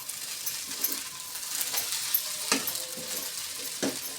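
Sabudana khichdi being stirred in a pan, soft scraping and sizzling with a few sharp utensil taps against the metal, close and fairly quiet, no voices.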